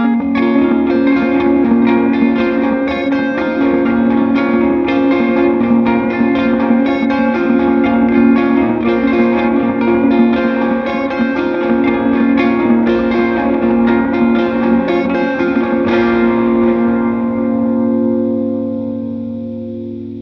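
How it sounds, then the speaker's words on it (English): Music played through the Joey Sturgis Tones SOAR tape delay plugin rings loud and sustained, thick with echoing repeats and chorus-like smear, before trailing off into a fading delay tail. "So that is the Joey Sturgis Tones SOAR tape delay."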